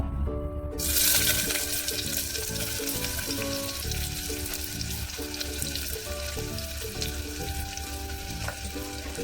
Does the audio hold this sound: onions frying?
yes